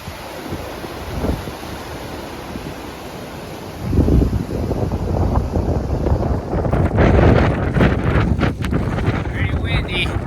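Strong wind gusts buffet the microphone outdoors on a rainy run across grass, a steady low roar that swells louder partway through and stays heavy to the end.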